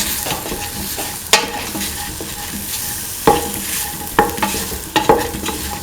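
Okra and chickpeas tossed with spices in a pan, stirred with a utensil that scrapes and clanks sharply at irregular moments over a soft, steady sizzle; no voices.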